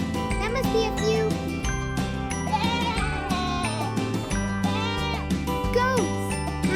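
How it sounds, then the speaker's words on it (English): A goat bleating several times in a farm scene, close and clear over light jingling music, with a voice in the mix. "Goats."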